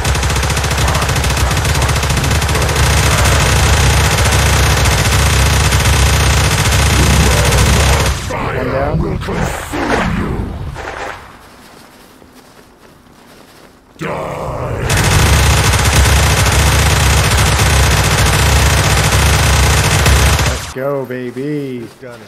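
Gunfire in the survival game DayZ on the Namalsk map comes as long, dense, very loud stretches of rapid shots, broken by a quieter gap partway through.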